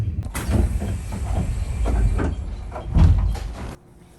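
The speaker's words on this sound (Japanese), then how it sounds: "6両編成の小島行き普通列車と行き違いです" A six-car local train bound for Kojima passes on the Uno Line at Bizen-Nishiichi station, heard from aboard another train as rumbling wheels and rattling cars rise and fall, then cut off abruptly near the end.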